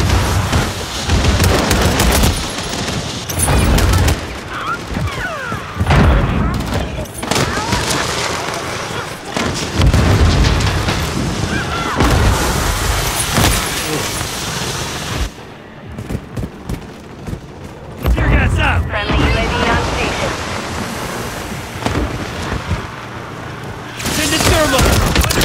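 A thermite breaching charge blows and gunfire erupts in the game Rainbow Six Siege: loud bursts of rapid shots and booms come one after another, with a short lull in the middle.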